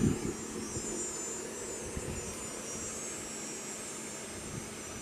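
A BMW i3's air conditioning compressor and front fan run together as a continuous, even hum and whooshing drone, with high cicada buzzing layered on top.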